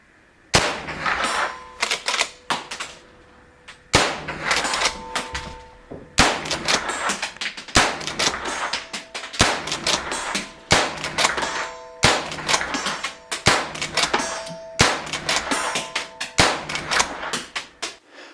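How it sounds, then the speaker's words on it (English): Rapid shots from a Savage Revel DLX .22LR lever-action rifle, each sharp crack followed by a ringing clang from steel targets, fired in quick bursts with brief pauses between strings. "cock it and use the rifle very quickly and shoot it faster on steel."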